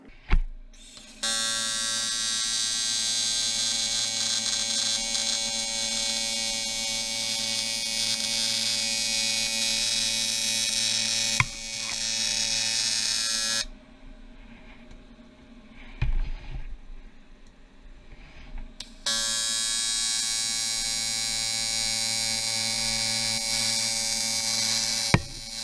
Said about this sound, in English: So next is to fully weld this one out.